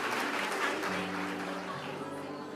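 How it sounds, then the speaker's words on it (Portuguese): A church congregation at a morning worship service claps steadily, the dense applause filling the whole short stretch at an even level. "Vamos dar uma linda salva de palmas para o Senhor"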